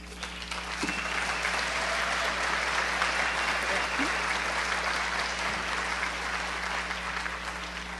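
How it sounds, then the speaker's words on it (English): An audience at a regional chamber of commerce cities event gives sustained applause, a dense wash of clapping that holds steady for several seconds, heard from within the room. "Let's give them another round of applause."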